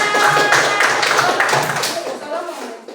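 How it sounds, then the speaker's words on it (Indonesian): A classroom group claps together after the third group finishes, a short burst of fairly loud hand clapping with voices mingled in that fades out toward the end. "Tepuk tangan."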